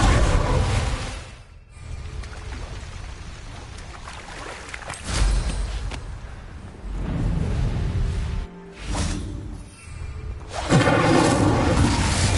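Incendio fire spell bursts in the Hogwarts Legacy video game, loud roaring whooshes of flame repeating in several surges with brief quieter gaps between them.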